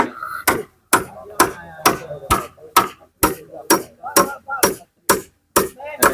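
Steady hammer blows ring out on the building of a newly raised house in Thailand: about fourteen sharp, close strikes at an even, brisk pace, with faint voices in the gaps.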